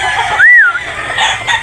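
A white game-farm rooster in Batangas gives one short, rising-and-falling crow call at moderate loudness over steady background farm noise, with no talking.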